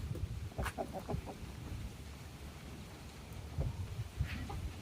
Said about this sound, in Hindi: ये मुर्गी भी आ गई